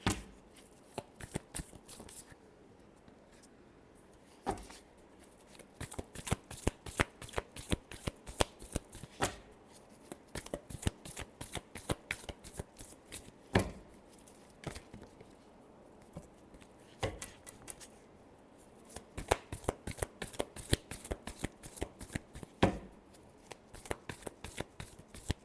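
Tarot cards shuffle repeatedly at close range in crisp, rapid riffling bursts with short pauses between them, a dry papery flutter that runs on throughout.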